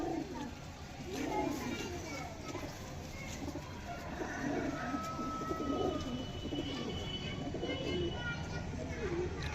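Pigeons coo in low, soft, repeated bursts against a murmuring background, with someone talking close by over the birds.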